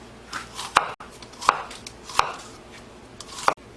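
An onion is chopped on a cutting board: four crisp, evenly spaced knife strikes, close and clear, with a light rustle between them.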